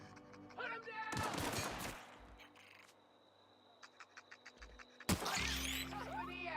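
Gunfire in the sci-fi video game The Outer Worlds: loud broadband blasts at the start and end, with a quieter run of about six short regular shots in between.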